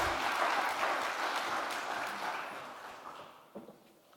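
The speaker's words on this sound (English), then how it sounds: "Warm applause, please." An audience at the opening ceremony of the e-Skills for Jobs 2015 campaign claps to welcome a speaker to the stage, a dense, fairly loud burst of applause that gradually thins and fades out near the end.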